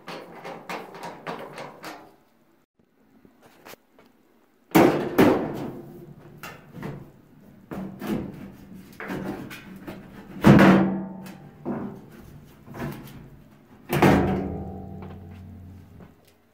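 Top panel coming off a Samsung clothes dryer: a run of hollow metal thunks, knocks and clatters as the sheet-metal lid is worked loose, with quiet gaps between the louder bangs, close by and with no talking.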